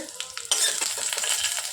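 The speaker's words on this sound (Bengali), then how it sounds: "ফুলকপিগুলো একটু লাল লাল করে ভেজে নেব" Cauliflower florets frying in hot oil, sizzling steadily with stirring scrapes; the sizzle jumps louder halfway through and continues crackling close up, with no talking.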